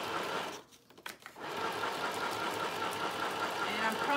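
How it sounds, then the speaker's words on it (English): Sewing machine stitching around a circle on a CD sleeve, a steady continuous mechanical whir that drops out briefly before running on at a constant close level. "I'm just sewing around the circle"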